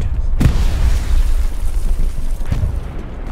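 Grenade explosions in the World War II shooter Hell Let Loose, fought around a trench: two heavy, booming blasts about two seconds apart, each a sharp thud that rolls into low rumble over constant battlefield din.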